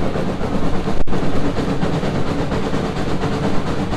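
Steam locomotive on the Cass Scenic Railroad working hard up a mountain grade, a loud, steady train rumble with rhythmic rail clatter and a brief sharp click near the start, no talking.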